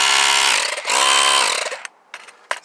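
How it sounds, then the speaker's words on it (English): A tiny air compressor motor running loud and close with a harmonic whine for nearly two seconds, briefly dipping and restarting, then cutting off and leaving a few short clicks and taps. "Smallest air compressor in the world."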